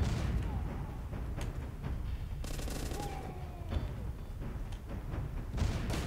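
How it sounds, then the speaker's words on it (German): Grenade explosions in the zombie video game The Walking Zombie 2: a run of sharp blasts and thuds over a constant rumbling din, moderately loud, with several distinct bursts spread across the stretch. "Knüffel ich halt mit Granaten nieder"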